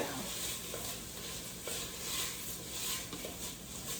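Penne toasting in a pot with vodka, giving a steady, dense sizzle that holds throughout at moderate loudness, with a few faint stirring knocks.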